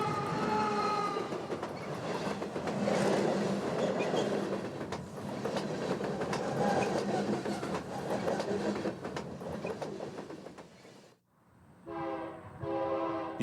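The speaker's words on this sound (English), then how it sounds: "a UP SD90 Mac threads a southbound freight onto the old Rio Grande main" A Union Pacific SD90MAC locomotive hauls a southbound freight train on the old Rio Grande main line in Colorado, with a loud, steady rumble of engine and rolling wagons close by, ending in a few blaring horn blasts.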